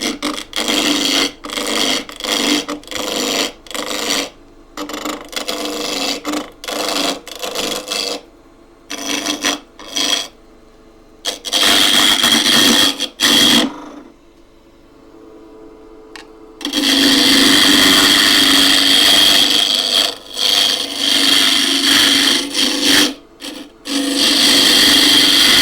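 A twig pot being turned on a wood lathe has its corners cut off, giving a loud, close, rough rasping scrape broken into repeated bursts with short pauses, then a longer steady stretch of cutting.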